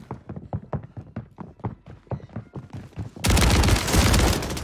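Rapid, evenly spaced shotgun blasts from an AA12 shotgun in Warzone 3, a dozen or so sharp reports in quick succession, followed by a sudden loud sustained wash of noise.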